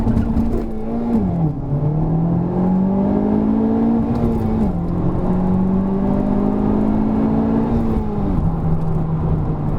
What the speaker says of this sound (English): Wow, it's axle tramping.